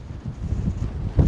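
Strong gusts buffeting the microphone outdoors on La Palma, a low rumbling roar that pulses and peaks in a heavy thump near the end.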